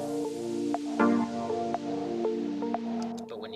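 Deep house track playing with its bass removed: sustained mid-range chords and pads with sparse, sharp percussive clicks scattered across the bar, steady and moderately loud, with brief high hits near the end.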